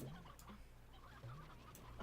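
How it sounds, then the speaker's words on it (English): Chickens on a ranch in the Slime Rancher 2 video game cluck in short, repeated bursts, several birds together, fairly near and continuous, with faint game ambience underneath and no talking. "A lot of chickens in this."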